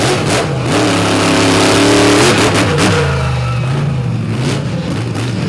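The Crush Station monster truck's engine revs hard and close at a night event in Benson, North Carolina. Loud pitch swells rise and fall in waves and sit over crowd and arena noise.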